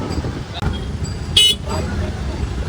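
Vehicles sit jammed in traffic on the Dive Ghat road during the Pandharpur Wari, a constant close road rumble with one short loud horn toot in the middle.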